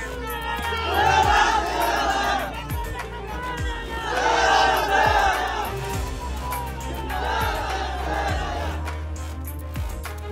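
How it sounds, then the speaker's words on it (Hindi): Crowd of supporters of Chandrashekhar Azad shouting on a street in Uttar Pradesh, loud massed voices rising in three swelling waves of chanting and cries over a constant rumbling roar. "उनके समर्थकों ने ऐसा शोर किया"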